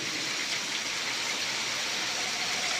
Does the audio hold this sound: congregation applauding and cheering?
no